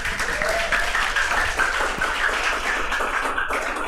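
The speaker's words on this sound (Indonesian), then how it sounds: "Tepuk tangan." A crowd claps in steady applause at a church youth Easter service, a dense patter of many hands that holds at even loudness throughout.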